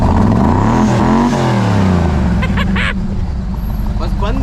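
Shelby GT500 Mustang Eleanor with a manual gearbox, its engine rumbling and revving up and down in loud sweeping pitch arcs, with people talking over it nearby.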